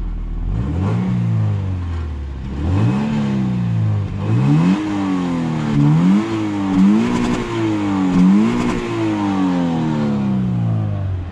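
A stock Toyota GT86 engine cranks and fires, then settles into a steady idle broken by about five quick throttle blips, each rising and falling, close by and fairly loud with no one talking.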